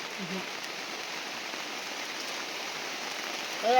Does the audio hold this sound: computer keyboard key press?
no